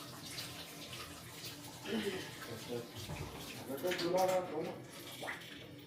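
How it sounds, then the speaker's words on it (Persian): Running tap water splashes steadily as hands are rinsed during late-night cooking of an omelette at a friend's home, with people chatting over the flow throughout. "دستمون آب بکشیم. اول آب بکشیم"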